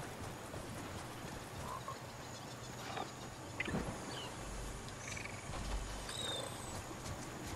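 A frog croaks in the Fortnite video game, repeated low croaks over a steady ambient game soundscape with occasional chirps and a brief thud, no talking.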